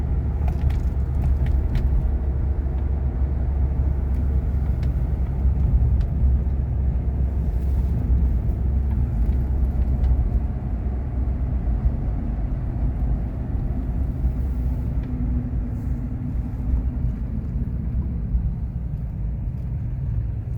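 A 1976 Cadillac Coupe Deville's engine idles and cruises with the windows up: a steady, heavy low rumble heard from inside the car, holding constant and easing slightly in the second half.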